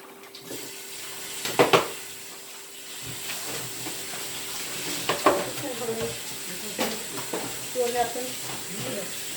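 Fresh bean sprouts fry in a pan of Chinese chicken fried rice, a steady soft sizzle and hiss with scattered clinks and scraping stirs, faint voices now and then under the cooking noise.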